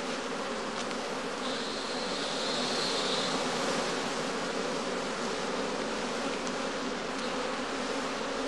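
A dense, steady hum of many bees working in heather on the moor, a continuous close buzz with individual insects swelling past, and no voices.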